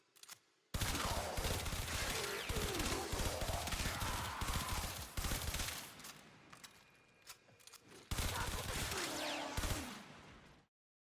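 Automatic rifle gunfire in the Warframe video game, a loud, dense stream of rapid shots in long sustained bursts broken by a short pause, ending abruptly.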